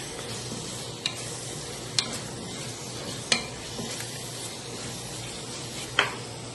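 Ginger-garlic paste sautéing in a pressure cooker for chicken biryani gives a steady soft sizzle with occasional sharp scrapes of a stirring spoon, close and fairly quiet, with no talk.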